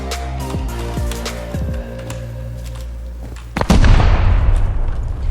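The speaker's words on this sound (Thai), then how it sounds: "ผมได้ยินเสียงระเบิดดังเล้น" A deep boom bursts in partway through, followed by a long rumbling roar over a sustained synthetic drone and scattered thuds, like an explosion in the video game Rust.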